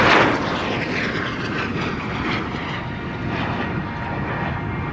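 A display aircraft at the Royal International Air Tattoo roars overhead, a loud continuous engine rumble that swells at the start and then holds steady as it passes, with no voices.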